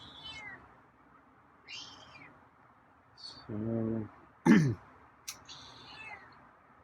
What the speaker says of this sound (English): At least you're meowing.